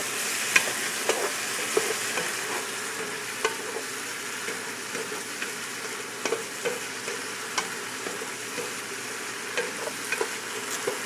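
Italian seasoning being stirred into lasagna soup in a cooking pot, a quiet steady sizzle with soft repeated scraping stirs and small clinks scattered throughout, no speech.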